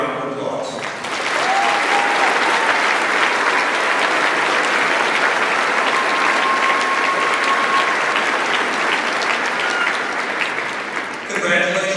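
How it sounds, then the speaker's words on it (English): Sustained applause from a large audience at the Harrisburg 2025 graduation ceremony, rising abruptly into steady, dense clapping that continues for about ten seconds before tapering off. "please help me recognize these students and their accomplishments with a round of applause"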